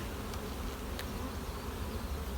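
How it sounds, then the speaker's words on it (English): Honey bees buzz in a dense, continuous drone over six or seven colony frames, close and steady throughout, with no voices. "looks like 6 or 7 frames of bees here"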